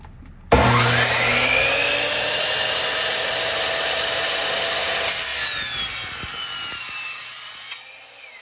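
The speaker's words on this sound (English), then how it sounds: "the blade makes a very nice clean cut" A power saw blade cuts through aluminium and wood, starting with a sharp onset into a loud, sustained, close-up grinding whine with shifting tones for several seconds before spinning down and stopping.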